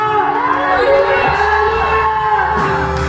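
A church congregation standing during a worship service and shouting Hallelujah together, a loud, sustained crowd roar of mixed voices with whoops that fills the whole stretch without letting up.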